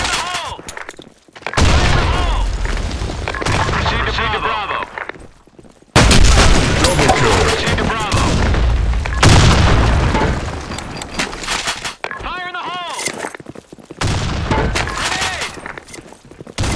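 Grenade explosions in a video game, loud blasts and crashing booms amid heavy chaotic noise, with sharp breaks and a voice speaking partway through.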